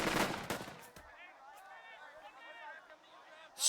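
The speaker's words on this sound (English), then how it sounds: "Shoot the shit out of this squad." Gunfire in the World War II tactics game Burden of Command, a quick cluster of loud shots at the start that gives way to a quieter stretch with distant battle noise and shouting voices.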